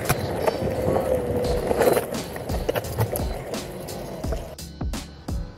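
Backfire Mini electric skateboard rolling smoothly on pavement after a motor replacement, a steady close rumble of small wheels with a faint whine and scattered clicks and bumps throughout.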